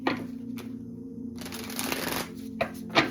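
Tarot cards are shuffled by hand up close, with dense papery riffling bursts and sharp flicks against a faint steady hum.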